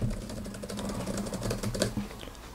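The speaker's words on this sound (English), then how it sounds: "And start typing." Typing on an ESR iPad keyboard case, a quick run of light plastic key clicks in an irregular but busy rhythm, close up and fairly soft, with no talking.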